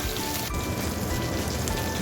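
Fish fry in hot oil in a pan after being flipped, a continuous loud crackling sizzle with no break.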